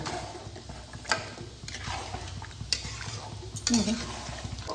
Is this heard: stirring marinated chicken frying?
yes